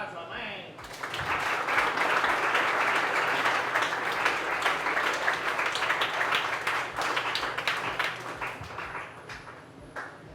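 Sustained audience applause at a Dominican baseball academy event, dense and loud clapping from a crowd lasting about nine seconds before tapering slightly, with faint voices mixed in.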